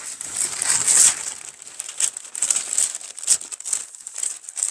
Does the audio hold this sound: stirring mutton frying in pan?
no